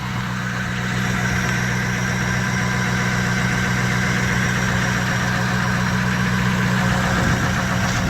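A 2006 Ford F350 4x4 truck idles steadily with a quiet exhaust, a continuous close, even engine rumble with no voices over it.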